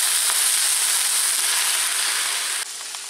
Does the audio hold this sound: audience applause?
no